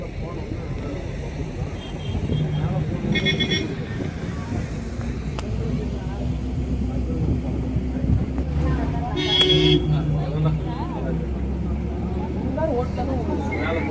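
A bus engine drones low and steady, straining as it climbs the hairpin bends of the hill road from Salem to Yercaud, with a louder surge partway through and wind noise over the cabin.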